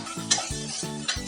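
A spoon stirs onion paste frying in a pan, with four evenly spaced scraping strokes over a soft, steady sizzle and a couple of small metallic clinks, close up.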